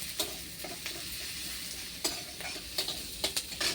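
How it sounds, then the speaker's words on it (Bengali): A few papad (lentil wafers) frying in hot oil, giving a continuous sizzle with sharp crackling bursts and occasional utensil clicks at close range. "আর পাঁপড়ও ভাজছি কয়টা, অল্প কয়টা ভাজছি পাঁপড়"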